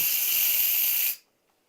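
Steam hisses loudly and steadily from an Instant Pot pressure release valve lifted with a wooden spoon, then cuts off abruptly into silence.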